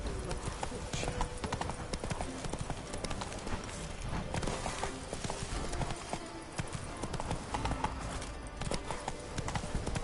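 Steady clip-clop of a ridden horse's hooves in The Witcher 3, continuous and fairly close, under a voice talking.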